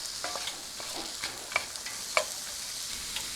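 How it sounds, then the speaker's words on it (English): Onions frying in olive oil in a hot pan, a bright continuous sizzle broken by light scrapes and taps as they are stirred. "I'm going to add my onions. I'm going to stir those around until they cook down a little bit."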